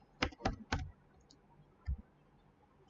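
A few sharp keystrokes on a computer keyboard, three quick clicks in a row followed by a pause and one more tap, close and fairly quiet.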